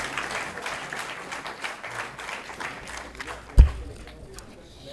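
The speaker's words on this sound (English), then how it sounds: "Ladies and gentlemen, please give her a big round of applause" Scattered audience applause at a convocation ceremony, moderate and fairly distant, thinning toward the end with a sharp thump partway through and a voice briefly heard.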